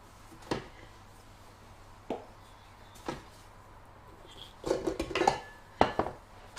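A spatula scraping cake batter for a vegan country cake around a mixing bowl, giving scattered soft clinks and scrapes, then a quicker cluster of clattering knocks near the end, close and fairly quiet.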